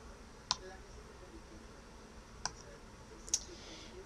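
Three sharp, faint computer mouse clicks spaced a second or two apart while selecting and deleting items in a Glogster web project, over low steady background hiss.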